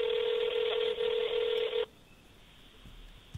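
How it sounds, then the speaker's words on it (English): A telephone rings on a call to a tip line, a single steady buzzing ring tone heard over the phone line that stops abruptly, leaving quiet line hiss. "Okay, there's a third ring."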